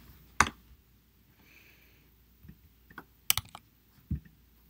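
A few scattered clicks from a computer keyboard as a value is typed in, quiet and isolated with short pauses between keystrokes in an otherwise near-silent room.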